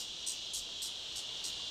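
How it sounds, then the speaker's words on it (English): Crickets and other insects chirp in a steady shrill buzz with a regular pulsing rhythm of repeated bursts, loud and continuous under a hissy background with no voices. "You may find the songs of insects strident or monotonous"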